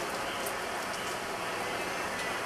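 Steady rain falls in an outdoor setting where wild alligators live, a continuous dense hiss of drops close by with no break.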